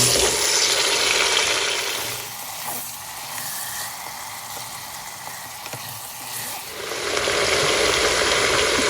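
Chicken thighs and onions sizzle loudly as they brown in a Cookeo multicooker, a steady close frying hiss that softens midway, then swells again, with no talking.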